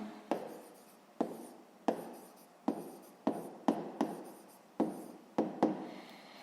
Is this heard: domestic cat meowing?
no